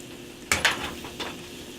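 Tomato hitting a hot pan of beans for frijoles a la charra on a stove at medium heat, giving a sudden sizzle burst and a stirring scrape, then a steady fry hiss with a second brief flare, close and fairly quiet.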